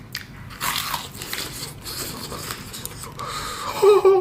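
A few sharp, crunchy bites into crispy fried chicken, crackling close to the ear, with some chewing noise between them.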